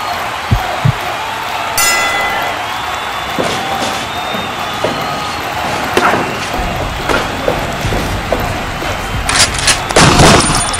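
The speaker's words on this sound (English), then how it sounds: "Shots fired!" Gunshots fired in a video game match, a series of sharp cracks and bursts scattered over a noisy busy background with some crowd-like clamor, loud and close.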